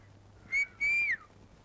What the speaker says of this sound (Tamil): உங்களை பார்த்தா விசில் அடிக்குது